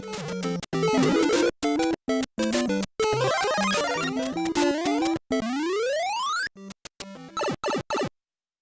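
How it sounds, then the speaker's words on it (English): Short musical sound effects from the Super Mario game series play one after another: chiptune jingles, bright arpeggios and a long rising sweep, each cut off by brief silences, with no voices. "we'll have a deeper look at musical sound effects in the Super Mario series"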